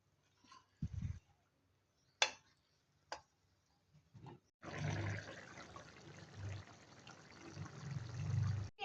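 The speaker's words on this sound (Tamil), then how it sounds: "தேவையான அளவுக்கு நம்ம தண்ணி ஊற்றிக்கலாம்." Water poured into a cooking pot while making chicken with okra, starting with a few scattered knocks and clicks and then a steady, gushing pour over the last few seconds, moderately quiet with no talk.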